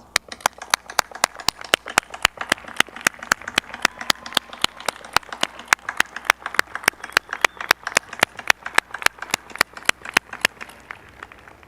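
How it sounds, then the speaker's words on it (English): Audience at a law school hooding ceremony applauds, with sharp, evenly spaced claps, mostly a single steady clapper heard close, running for about twelve seconds with little talk. "give those who have been with you through this journey a well-deserved round of applause"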